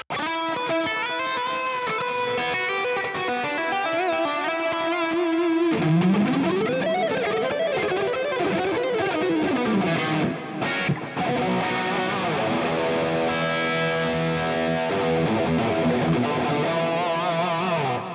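An electric guitar plays through a NUX amp, its notes and bends trailing into echoing delay and a wide reverb wash, sustained and fairly loud.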